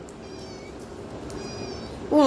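Quiet room tone, then a single loud, close cat meow bursts in right at the end.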